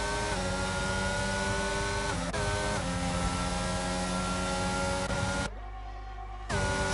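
Racing car engines in a sim racing game on a Canadian circuit, a loud continuous high-pitched whine that shifts pitch through gear changes and drops out briefly near the end, with no talk.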